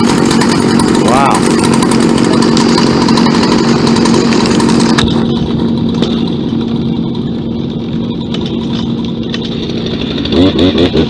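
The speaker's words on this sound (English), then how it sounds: "Big chainsaw." A big chainsaw runs loud and steady from start to finish, a constant engine roar with a sustained tone that shifts midway, and another person is heard talking over it.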